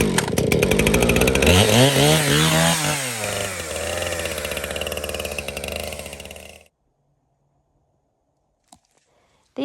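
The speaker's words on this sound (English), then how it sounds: "These logs are for chainsaw milling." A chainsaw cuts firewood logs in the Bighorn Mountains, roaring loud and close with the engine pitch rising and falling under load for several seconds, then cutting out into near silence with a couple of faint knocks.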